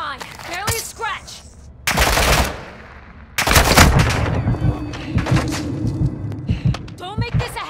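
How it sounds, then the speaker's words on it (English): Gunfire in a video game plays as sharp, loud broadband bursts and rapid rattling volleys, with a second heavy burst partway through. Spoken voices run over and between the shots. "You are taking effective fire."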